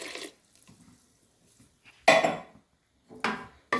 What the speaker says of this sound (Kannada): ನೆಕ್ಕು ಮಿಕ್ಸಿ ತೆಕ್ಕಿದ ನೀರ್ಲು ಪಾಡ್ಗ